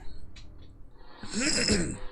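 A person clears their throat once, close to the microphone, in a short rough burst that follows a faint earlier noise.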